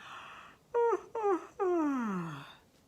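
A drawn-out, wavering vocal yawn repeated three times, each a sliding groan that falls in pitch, the last one longest, close and clear.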